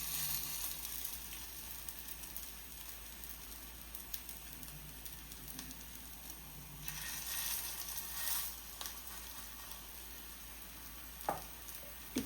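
Potato tikki patties for ragda patties frying on a tawa over medium heat give a soft, steady sizzle up close, with a few brief scraping sounds and a single sharp click near the end, and no speech.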